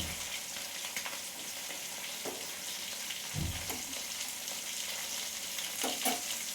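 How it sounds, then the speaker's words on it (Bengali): Prawn butter fry pieces frying in a wok; constant close sizzling with occasional scraping and clinks of a spatula turning them. "বাকিগুলো কড়াইতে দিয়ে দিয়েছি। বাকি ফ্রাইগুলো ভাজা হচ্ছে"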